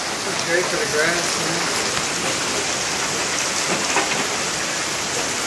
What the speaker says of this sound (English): It's pouring. You can see the hail bouncing in the grass.